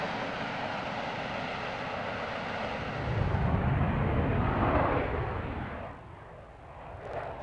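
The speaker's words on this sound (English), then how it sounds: "an F-15 leaves for home and waggles its wings in salute" An F-15 fighter jet at an air show gives off a broad, roaring engine rush that swells in the middle as it passes, then fades.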